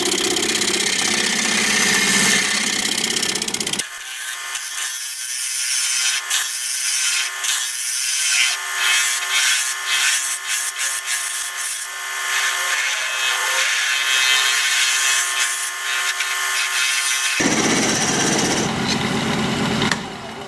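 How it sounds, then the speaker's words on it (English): Steady scraping of a shear-scraping tool on a wooden ring dish turning on a lathe, a continuous close rasping hiss over the motor's hum, with no talk. "I'm going to see if I can't clean this side up a little bit with shear scraping."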